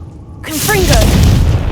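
After a brief quiet, a Confringo spell in Hogwarts Legacy erupts into a loud booming blast with whooshing, chirping tones, and the rumble holds to the end.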